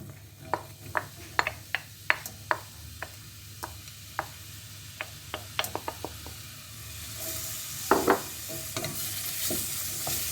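Chopped onion tipped into hot oil sizzles softly while a utensil scrapes and taps against the pan in irregular strokes, and the frying hiss swells louder near the end.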